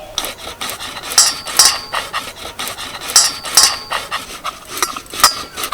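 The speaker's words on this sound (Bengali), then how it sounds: "আর আমি এখানে আলুটা গ্রেটারে গ্রেট করছি" Boiled potatoes are grated on a metal grater in loud, rhythmic scraping strokes that repeat in bursts with brief pauses between them, close and with no one talking.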